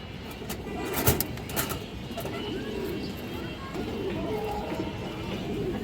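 Pigeons coo softly in low, repeated rolling calls, with a few brief clicks and taps near the start.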